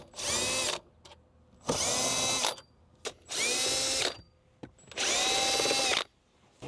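A power drill removes 10mm bolts from the dash of a Toyota Avalon during a radio swap. Four loud, close whirring bursts, each lasting about a second, are separated by short pauses with faint clicks.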